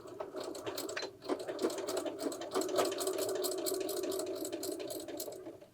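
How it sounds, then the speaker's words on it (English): Sewing machine stitching along a marked line on fabric for a tie-up window shade, a close, rapid rhythmic clatter that starts after a brief pause and runs steadily with fast needle ticks throughout. "Now you're going to go to the machine and stitch on that line."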